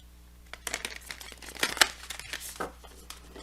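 A deck of oracle cards being shuffled, several quick riffling bursts with soft crinkly rustles, close and fairly quiet.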